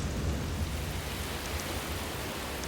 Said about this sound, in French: la pluie s'invite soudainement à la soirée